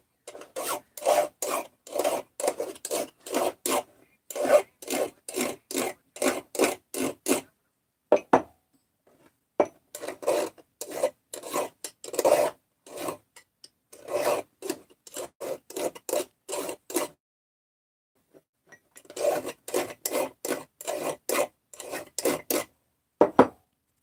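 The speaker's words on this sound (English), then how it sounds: "I'm just taking some burrs off here that end up, because of machining" Burrs being filed off freshly machined metal parts, bursts of quick rasping strokes up close, grouped in rhythmic runs separated by short pauses.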